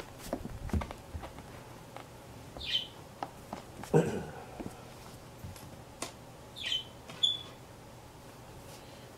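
Small birds chirp indoors in a few brief, high, isolated tweets spaced several seconds apart, faint over a quiet room with scattered soft knocks and footstep-like taps.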